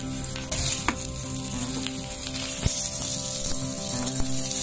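Alu vadi, colocasia leaves coated in besan, sizzle in a spoonful of oil on a tava over a gas flame. A close, steady frying hiss runs throughout with a few light clicks, and no one speaks.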